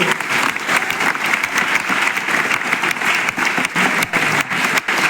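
An audience at a Christian church conference claps loudly and continuously, a dense, close burst of applause that holds steady for several seconds.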